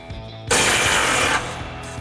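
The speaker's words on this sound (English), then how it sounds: "we're going to remove this 13mm bolt on the back side of our frame horn with our 13mm" An impact wrench with a 13mm socket rattles in a loud, close burst of about a second, backing out a frame horn bolt on a 2021-2025 Ford Bronco, with quieter clicks and handling noise around it.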